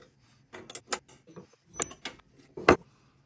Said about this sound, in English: we've gotta unloosen this lock nut and raise this bolt up just